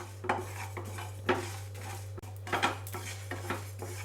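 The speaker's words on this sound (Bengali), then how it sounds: "শুকনো খোলায় ভেজে নিচ্ছি" Cumin seeds and dried red chillies dry-roast in an empty pan, heard as a series of close metallic scrapes and clinks of a spatula against the pan at irregular intervals over a low steady hum.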